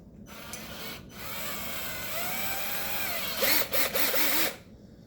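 An 18-volt cordless drill whirs steadily at close range, its motor pitch rising and falling, then revving in a few quick bursts before stopping.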